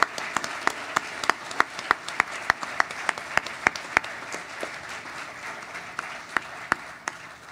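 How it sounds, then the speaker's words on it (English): Audience applause for the finalists at the 2023 Hackaday Prize awards ceremony: a steady wash of many hands clapping, with sharp individual claps standing out at an irregular rhythm, fairly quiet and continuous with no talking. "I'd like to get a quick round of applause for all 50 of the finalists."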